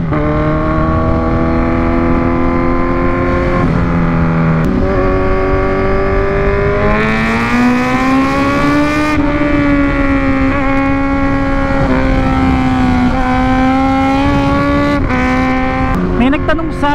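A Kawasaki Z1000 superbike engine revs steadily and loudly nearby, its throttle rising and settling in smooth sustained swells, with brief blips near the end.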